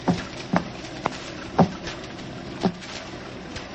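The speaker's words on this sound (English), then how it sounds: "There's someone tapping on the door to our room." Knocking on a door, as a radio drama sound effect: a slow, uneven series of soft, close taps over a steady background hiss.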